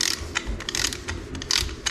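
A ratchet wrench clicks in quick repeated bursts while drawing down cylinder head bolts on a 6.0 LS engine, close and fairly loud with brief pauses between strokes.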